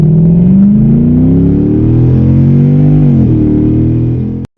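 Lexus GS400 engine with a modified stock intake revving hard, a loud, close intake roar rising steadily in pitch, dipping briefly and climbing again before cutting off abruptly.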